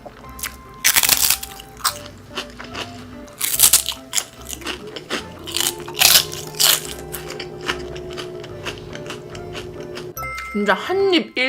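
Crunchy fried seaweed chips (gim bugak) bitten and chewed up close in a Korean mukbang, with repeated loud crackling crunches in bursts and other eating noises between them.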